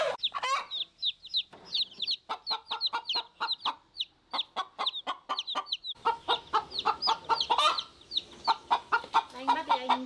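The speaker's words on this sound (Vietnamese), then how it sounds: "cả hai mẹ, cả gà mẹ và gà con luôn" Mother hen and newly hatched chicks clucking close by, with a steady run of short repeated clucks and high chick peeps, thickening into a busier chorus in the second half.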